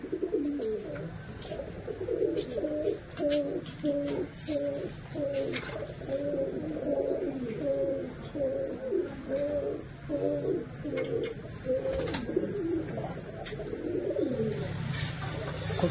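Giribaz pigeons at a rainy flying tournament coo in a steady repeated rhythm close by, over a background of outdoor noise and a faint voice.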